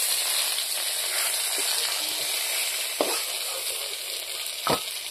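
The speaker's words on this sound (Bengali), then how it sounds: "বেগুনটা এখন বেগুনের কালার পাল্টে গেছে, এখন কত সুন্দর ভাজা হয়ে গেছে।" Whole eggplant fries in a pan, a steady close sizzle and crackle of hot oil with a few brief stirring knocks, continuous and moderately loud without any talking.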